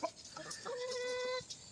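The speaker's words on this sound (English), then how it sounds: "there's the alpha rooster" Chickens on a small backyard flock, including an alpha rooster, give a short, close, drawn-out clucking call with a couple of softer clucks around it.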